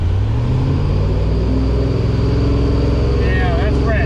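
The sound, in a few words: car engine revving as throttle is given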